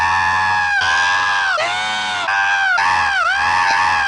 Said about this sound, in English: There's entire compilations of him just screaming.